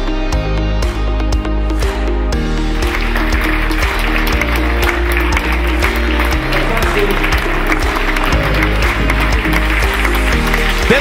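Applause from an audience at a product launch, sustained clapping over loud music with a steady beat throughout.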